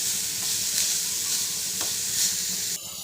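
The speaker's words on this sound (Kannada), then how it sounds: "ತುಪ್ಪದಲ್ಲೇ ಫ್ರೈ ಮಾಡ್ಕೋಬೇಕು." Grated carrot fries in ghee over a medium flame, giving a steady close sizzle with light scraping stirs and a soft clink near the end.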